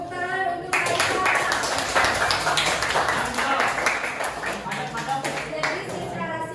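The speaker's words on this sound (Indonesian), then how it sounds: "Tepuk tangan untuk Haikal." A class or audience applauding a student named Haikal after a poetry lesson, a loud dense burst of clapping that starts abruptly after a brief spoken moment, sustained and fading near the end, with talk at both edges.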